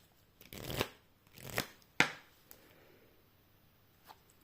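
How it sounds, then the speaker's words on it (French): A deck of tarot cards is shuffled by hand before a draw: three quick, soft riffling bursts close up, followed by a faint tap, in a quiet room. "On va tirer une dernière carte de conclusion."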